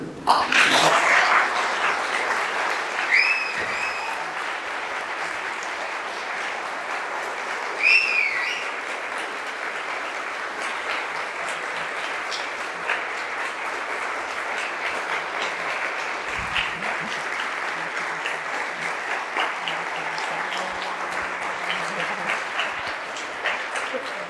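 A room full of people clapping steadily after a public PhD thesis defense presentation, sustained applause lasting well over twenty seconds at an even level, with a few brief voices mixed in.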